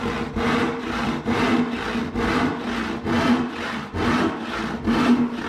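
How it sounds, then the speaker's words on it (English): A hand saw, 20 to 22 inches long with 10 teeth per inch, cuts through wood along a marked line in steady, rhythmic back-and-forth strokes, about two per second, close and loud with no talking. "As I saw, I'm trying to stick right next to the line on the waist side."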